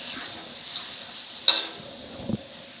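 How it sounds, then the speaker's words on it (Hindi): Chicken deep-frying in hot oil in a wok gives off a soft, steady sizzling hiss, broken by a sharp clink and a brief clatter of utensils. "चिकन को हमने इसमें फ्राई कर लेना है। इसको हम डीप फ्राई करेंगे अच्छी तरह।"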